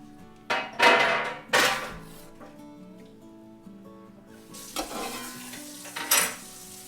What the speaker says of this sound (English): The sauteed onions.